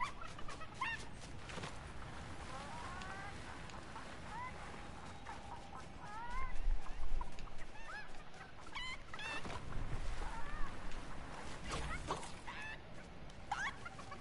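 Video game chicken clucking and honking in repeated bursts amid game sound effects and background noise, with a louder stretch midway.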